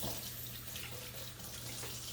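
Sink sprayer rinsing pumpkin seeds in a colander: a steady, close hiss of running water that keeps on through the whole short stretch with no voices.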